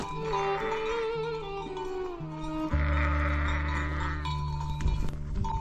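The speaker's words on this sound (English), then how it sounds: "A lot of sheep." A flock of sheep bleats on a mountain trail near Dimitsana in Greece, several overlapping drawn-out calls, some close and loud, others farther off, rising into a denser chorus midway.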